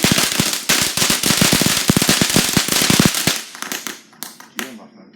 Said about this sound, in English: those are some fireworks